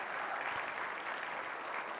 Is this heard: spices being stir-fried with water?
no